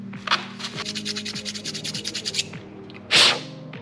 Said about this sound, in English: I'm gonna take a little bit of sandpaper and sand that up